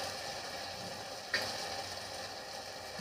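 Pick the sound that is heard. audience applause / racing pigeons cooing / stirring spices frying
stirring spices frying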